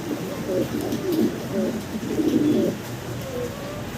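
Large fancy pigeons coo in a steady, low, repeated rhythm close by, with faint background hiss and a few distant chirps.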